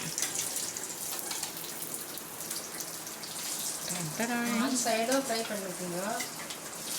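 Crispy masala fish fries in a pan with a steady, close sizzle and light spatula scraping, and a voice talks over the frying in the second half.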